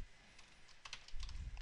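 Someone types a password on a computer keyboard for a bookkeeping app login, producing faint, quick, irregular key taps over a low background hum.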